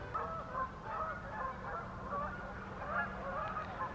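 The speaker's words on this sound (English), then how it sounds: "I apologize for the sound of geese" A flock of geese honks all around outdoors, overlapping calls rising and falling continuously at moderate loudness with no talking.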